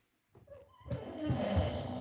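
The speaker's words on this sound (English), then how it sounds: "Oh man, my dog is snoring." A dog snoring close by: a short snort, then a longer, steady rasping breath with a raspy, rumbling texture, fairly quiet and alone.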